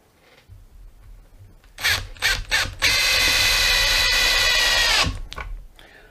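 A Makita DTP141Z cordless impact driver tightens a screw: a few short bursts, then a sustained loud rapid hammering rattle lasting about two seconds before stopping abruptly.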